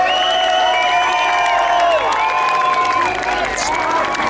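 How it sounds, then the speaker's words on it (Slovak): At a tractor-show fun run in Malá Čierna, a crowd cheers and claps for a runner on the course, with shouts and whoops layered over scattered applause and voices calling out throughout. "To chce veľký potlesk a veľká snaha."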